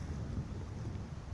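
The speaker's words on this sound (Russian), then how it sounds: "Ветер поднимается." Wind rises in a forest as a faint, continuous low rumble and rustle, steady throughout with no voices.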